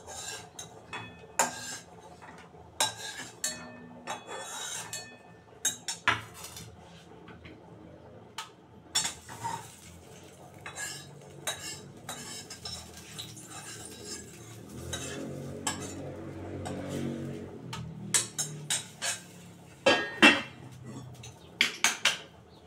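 Carrot halwa being stirred in a pan as it thickens, a spoon scraping and clinking against metal in irregular sharp bursts over a low bubbling background, close by, with occasional quiet talk.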